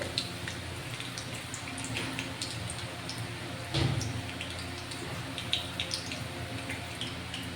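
Slit green chillies fry in hot oil after a batch of soya chunk pakoras, a steady, soft crackling sizzle with scattered sharp pops and one brief louder splutter.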